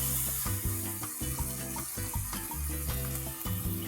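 Spice mix of biryani masala, garam masala and salt sautés in a pan for vatana bhat, a steady sizzling crackle close by, broken by short scraping stirs of a spatula.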